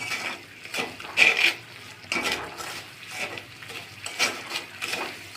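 Caramelising sugar is stirred in a pan for sweet-sour green mango aamsotto, giving soft scraping strokes and light sizzle in uneven bursts, close and fairly quiet, with no voices.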